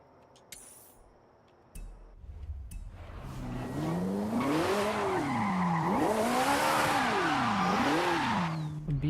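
A B-class Lancia in Forza Horizon 5 revs hard, its engine pitch climbing and dipping through repeated gear changes and throttle swings while tires hiss and squeal, loud and close, after a few seconds of quieter sounds.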